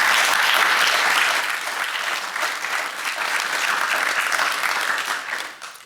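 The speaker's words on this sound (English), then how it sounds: "Let's please give the previous speakers a round of applause" A graduation ceremony audience gives sustained applause, a dense, steady wash of clapping that holds level before tapering off at the end.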